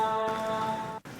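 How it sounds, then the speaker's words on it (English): Steady rain of a storm falls as a continuous hiss with patter on surfaces, heard behind sustained musical tones, then cut off abruptly near the end. "the rain and the storm is kind of loud"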